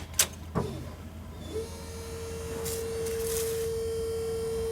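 A Jeep CJ7 electric conversion's electrical system powers on with the ignition: a couple of clicks, then a steady high electric whine settles in over a low background hum.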